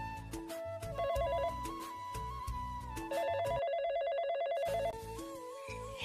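A telephone rings with a repeating electronic melody, loud and steady throughout, with no talking.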